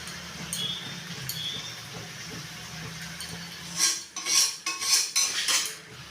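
Chicken chow mein noodles are tossed and stirred in a pan, with clinking metal utensil scrapes and clatters that grow louder and denser in the second half over a low background hiss.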